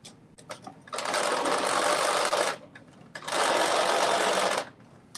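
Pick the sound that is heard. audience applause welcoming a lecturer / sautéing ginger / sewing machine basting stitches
sewing machine basting stitches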